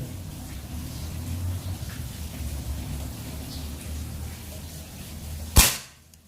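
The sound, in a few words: air rifle shot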